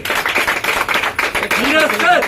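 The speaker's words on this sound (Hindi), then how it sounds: "नीरज सर के लिए एक बार जोरदार ताली हो" An audience applauds a speaker at an AWPL success-story event, a dense burst of clapping that fills the room, followed by cheering voices and whistle-like calls rising over it near the end.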